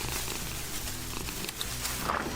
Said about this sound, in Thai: นักเรียนเอาน้องแมวมาเรียนด้วยอีกแล้ว